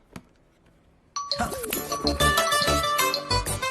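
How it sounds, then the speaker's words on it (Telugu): A single short phone message ding sounds faintly in a quiet room, followed by a loud rush of music and voices in a Telugu sci-fi comedy film. "మెసేజ్ వచ్చింది సార్."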